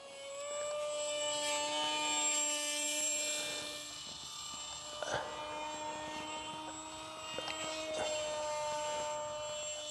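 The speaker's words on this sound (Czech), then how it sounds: "teďka už krásně s tím modelem tady před sebou budu lítat" A small Modster Easy Trainer 800 RC model airplane flies nearby, its electric motor a steady high whine with harmonic tones that shift slightly in pitch, continuous and alone for about ten seconds.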